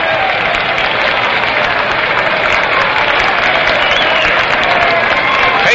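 A packed baseball stadium crowd at a 1961 World Series game between Cincinnati and New York applauds and cheers, a dense, steady roar of clapping that holds loud and unbroken throughout.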